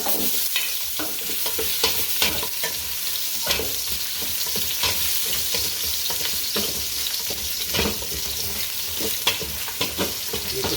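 Ginger hisses in hot oil in a pan for chicken hinalang, a steady close sizzle broken by regular scraping stirs and small crackles.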